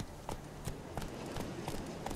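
Rhythmic horse hoofbeats in the video game The Witcher 3 clip-clop at a steady trot, each strike crisp and fairly close, repeating about every half second over a low background hum.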